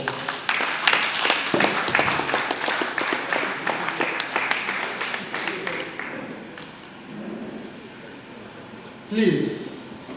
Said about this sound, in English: Please, let us take that round of applause once again.